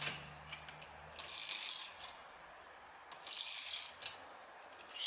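Two bursts of rapid ratchet clicking as a socket wrench works a rear brake pipe fitting on a Mercedes W211, close and distinct, separated by quieter pauses with no talking.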